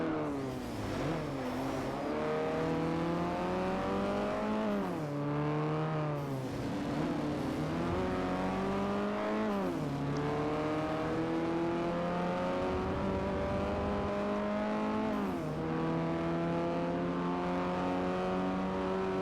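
A Mini Clubman engine in Forza Motorsport 4 races through repeated gear changes, rising to a buzzy high whine and dropping at each shift, loud and continuous with faint tyre noise and no talking.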